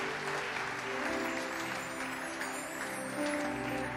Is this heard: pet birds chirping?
no